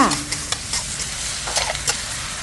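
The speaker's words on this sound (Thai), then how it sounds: "จากนั้นก็ผัดต่อค่ะ ผัดไปเรื่อย ๆนะคะ จนกว่าแขนงกะลำจะสุกค่ะ" Brussels sprouts and minced pork stir-fry in a hot pan, with a constant sizzle broken by close, quick scrapes and tosses of the spatula.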